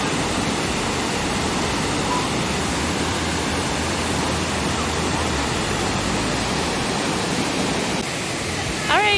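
Burney Falls, a 129-foot waterfall with a flow of about 100 million gallons a day, roars as a dense, even rush of water. The sound is loud and continuous throughout.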